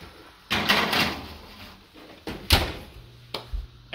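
A household door in a home kitchen opens and closes during cookie baking, giving several broadband thumps and knocks at moderate level, with a sharp bang near the middle and quieter clicks after.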